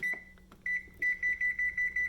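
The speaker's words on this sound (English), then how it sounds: "Gonna put our timer." A kitchen timer is set with a few button chirps, then beeps in a steady rapid series of short, evenly spaced tones, close and clear in a quiet kitchen.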